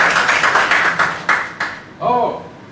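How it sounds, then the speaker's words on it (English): A few bursts of clapping from a small audience, uneven and patchy, with a voice briefly talking near the end. "How about a round of applause for Sabina?"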